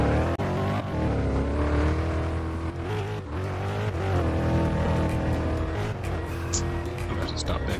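Car revving and swerving in a Roblox hood game, steady loud engine drone with tire squeals, under constant talk.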